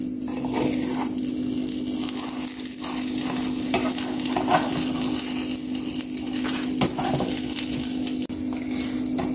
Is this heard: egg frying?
yes